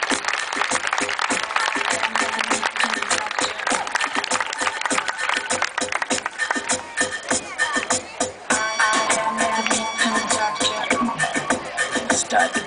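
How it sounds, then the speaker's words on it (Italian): An audience applauds at a dance festival, Festa del Ballo 2009, with dense, continuous clapping and crowd noise mixed with voices and music throughout. "Voglio un applauso da soli"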